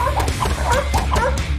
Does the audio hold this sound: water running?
no